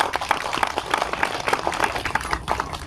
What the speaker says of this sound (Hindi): पहले आप लोग जोरदार तालियां बजाएं।